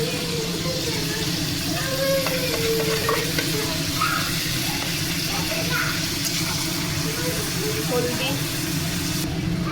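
Spices for a mutton dish sizzle and fry in a pan, a dense continuous crackle with stirring clatter throughout, while a voice speaks over it.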